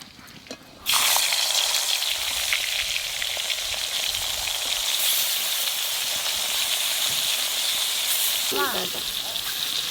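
Cumin seeds roasting in a dry pan give a steady, loud crackling sizzle that starts after a quiet second and runs throughout, with a brief voice near the end.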